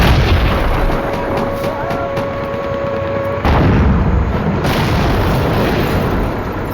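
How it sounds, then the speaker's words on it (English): A single heavy blast from a North Vietnamese tank's 76mm main gun striking a command bunker during the Vietnam War siege of Lang Vei, loud and dense, followed by rumbling aftermath and a second surge of noise. "One blast from its 76mm main gun left the front of the TOC in ruins."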